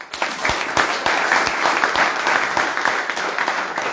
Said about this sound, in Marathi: टाळ्या वाजवा बरं काय